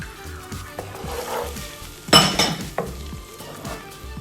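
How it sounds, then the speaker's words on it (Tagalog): Sweet chili garlic chicken being stirred in a sizzling pan, with steady frying hiss, utensil scrapes and a louder clatter midway, close and alone without talk. "Then mix it well."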